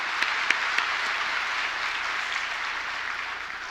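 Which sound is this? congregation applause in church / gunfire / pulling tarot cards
congregation applause in church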